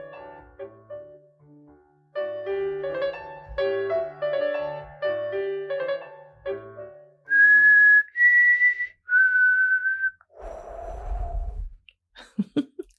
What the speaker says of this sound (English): I was trying to whistle the theme from Close Encounters of the Third Kind